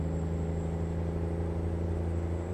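Freightliner Classic XL truck in American Truck Simulator with a 620-horsepower Detroit Diesel 60 engine, idling in a steady, droning hum with layered low harmonics and a thin high whine, constant and close with no speech.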